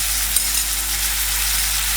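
Marinated crab sizzles in a pan with fried onions for a Malvani crab masala, giving a steady, close, hissing fry that stays even from start to finish.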